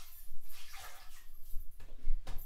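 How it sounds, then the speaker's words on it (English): Water sloshes and trickles softly as a face cloth is rinsed in a basin of warm water, in quiet, uneven bursts close by. "rinse it again in warm water"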